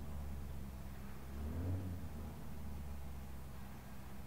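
A simulated truck engine in a logistics driving game hums with a steady low rumble and lifts into a brief rev midway before settling back, constant and fairly loud, with no voices.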